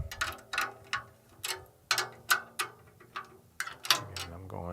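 A drum tuning key turning the tension rods to tighten a drum head, giving a series of sharp ratcheting clicks and squeaky metallic ticks at an irregular rhythm, close and fairly loud with no talk.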